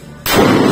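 A single loud, close gunshot from a CZ Scorpion EVO rifle on a firing range, an abrupt sharp blast that cuts off the quiet and rings out broadly.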